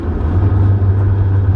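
A Honda S2000 with a titanium exhaust drones steadily at 3,000 RPM, a constant low hum with road rumble beneath it, alone and without talk.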